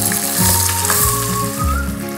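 Cinnamon meatballs sizzle in a hot pan as they are turned, a close, continuous frying crackle with a few scraping, shifting sounds from the turning.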